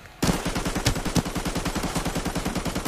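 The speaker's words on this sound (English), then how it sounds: "Officer, why is your gun on full auto?" An AN94 rifle in Arena Breakout fires a rapid full-auto burst, a fast even rattle of loud close shots that starts abruptly and runs unbroken for about three seconds, with no talk.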